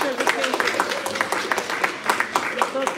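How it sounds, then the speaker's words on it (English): An audience at a temple service claps for parents and grandparents, a steady patter of many hands with voices mixed in. "I wanted to give the parents and the grandparents a big round of applause"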